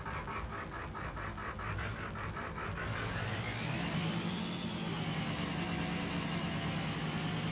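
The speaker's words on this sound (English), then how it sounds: "This truck sounds so good." A truck with a 7.3 engine in BeamNG.drive runs on a desert racetrack, its engine chugging in a rhythmic pulse before climbing into a smoother, rising drone, moderately loud and steady throughout.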